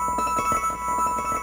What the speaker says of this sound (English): And then I'll play my harp through the Endless Sleeper